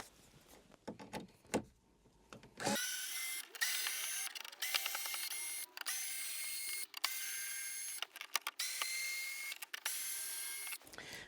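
After some faint handling clicks, a power driver whirs in repeated bursts with brief pauses between them as it backs screws out of the top of a Traxxas Pro Scale RC sand car, close up and fairly loud.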